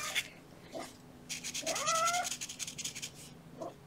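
A cat lets out a string of loud, drawn-out meows and caterwauls up close, with short calls at first, then a long wavering yowl followed by smaller cries.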